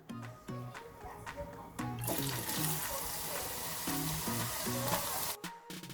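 Potato slices for homemade Lays-style chips frying in hot oil, a steady bright crackling sizzle that swells louder partway through as a new batch drops in, with faint music underneath.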